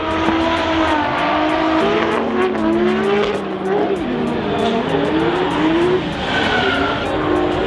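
A drift car at Japfest Silverstone squeals its tyres through a long skid and spins out, the engine note rising and falling under continuous loud tyre screech, with crowd noise behind.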